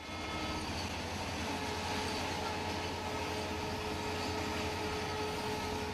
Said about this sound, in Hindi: आपको ये 2 ट्रेनें जाती हुई नजर आ रही हैं